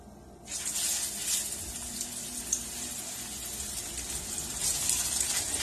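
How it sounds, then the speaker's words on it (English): Ahi tuna sears in hot oil in a pan, giving a steady bright sizzle that bursts on at once and holds, moderately loud and close, with no talking. "once our oil is nice and hot, we're going to take our tuna here, we're going to place it in the pan"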